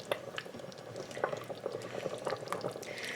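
Chicken chow mein simmering in an Instant Pot, a quiet continuous bubbling with soft irregular pops and blips, heard alone without talk.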